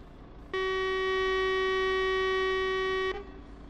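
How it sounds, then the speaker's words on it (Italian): A truck horn in the Truck Driver video game gives one long, steady, loud blast of about two and a half seconds, rich in bright harmonics, which cuts off sharply and leaves faint background noise. "Colpo del clacson ci stava, eh."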